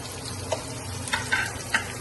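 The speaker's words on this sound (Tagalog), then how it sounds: "Luto natin yung ating sibuyas yan." Onions sauté in a pan for a Spanish mackerel sarsiado, a quiet steady sizzle with a few light clinks of a utensil stirring against the pan, close and alone without speech.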